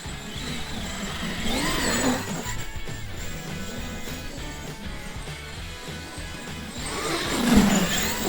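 A Traxxas X-Maxx 8S RC truck on paddle tires launches on grass, its electric drivetrain whining and rising in pitch in two surging bursts with steady motor noise between, loud and close.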